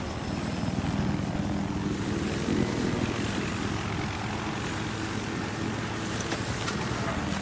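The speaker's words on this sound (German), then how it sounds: "Da unten ist ein Heli." The steady thudding drone of a helicopter's rotors and engine in the video game Battlefield 4 fills the scene continuously at a fairly constant level.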